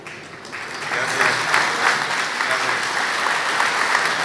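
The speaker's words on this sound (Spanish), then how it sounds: "No me gusta hablar al último porque ya los aplausos ya no se acaban." An audience claps loudly and continuously at a union report event, the applause building and holding steady as a dense crowd sound.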